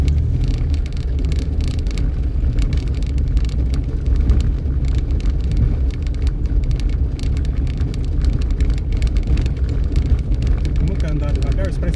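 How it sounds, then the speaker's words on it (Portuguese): A car rolls past on a small-town street in Itanhandu, Minas Gerais, a close, steady low engine and tyre rumble filling the scene without clear words. "espera esse carro passar"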